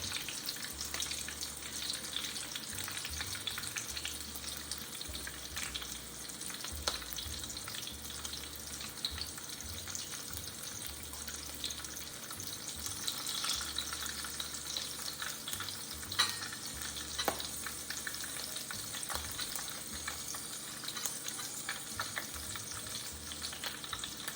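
Shrimp frying in hot grease, a steady crackling sizzle with bubbling pops that runs on without a break, fairly quiet and close, with faint clinks now and then and no talking.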